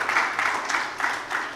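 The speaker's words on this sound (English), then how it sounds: "Please, can we just give all our panelists a resounding applause?" Audience applause for a panel of speakers at the close of a conference session on AI in Africa, a steady broadband wash of clapping that swells in repeated pulses, moderately loud with no voices over it.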